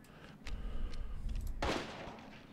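A pistol fires in Resident Evil Village, a single gunshot with a low, booming body, followed by a sharper report around a second later, moderately loud over a quiet background.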